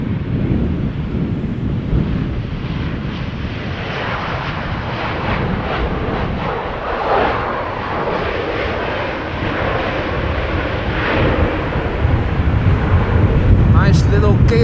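A KLM airliner lands at Schiphol in breezy, post-storm wind, its engine roar steady and loud alongside gusty wind buffeting the microphone, with a commentator talking over it.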